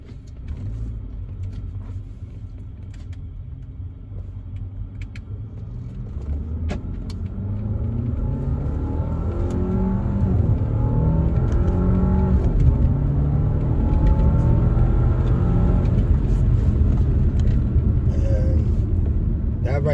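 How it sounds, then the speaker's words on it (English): A car with an automatic transmission shifted in manual mode, its engine rumbling low and building steadily as it revs through the gears, with rising harmonic sweeps over a constant close drone. "you can hear the engine and hear when I'm shifting also"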